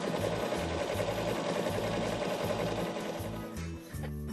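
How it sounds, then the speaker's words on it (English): A sewing machine runs steadily in a fast, continuous mechanical whir, pausing briefly near the end before starting up again, close and fairly loud. "start sewing them one by one by your sewing machine"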